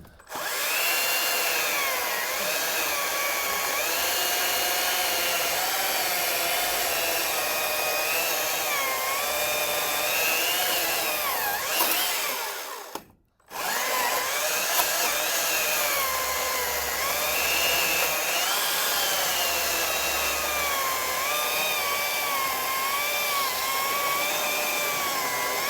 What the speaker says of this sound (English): I think the cold is really sucking the life out of this saw.